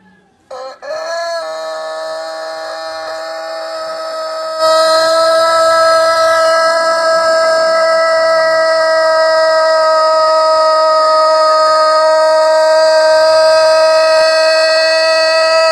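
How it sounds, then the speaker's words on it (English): A rooster giving a long, loud, sustained crow that rises and holds a steady wailing tone like an air raid siren, continuing for many seconds with no other sounds. "this rooster is able to duplicate them"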